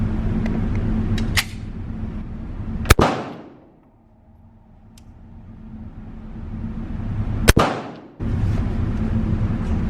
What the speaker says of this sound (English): Now I'm gonna do 10 shots nice and slow. I'm gonna try to shoot slow at 15 yards.